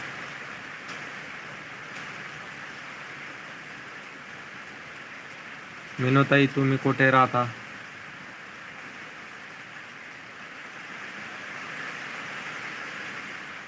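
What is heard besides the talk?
heavy rain falling in Khultabad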